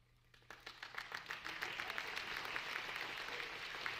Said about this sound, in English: I wasn't sure if I'd get applause for that one